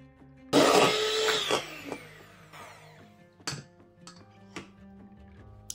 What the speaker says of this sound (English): I'm just going to finish beating.